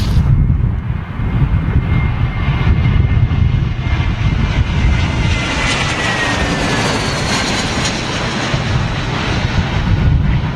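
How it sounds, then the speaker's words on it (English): A Boeing 747 being pushed back out of the maintenance area at London Heathrow on a stormy, windy day gives a loud, steady jet roar mixed with wind noise that fills the whole stretch, with no talking. "747 being pushed back out of maintenance there"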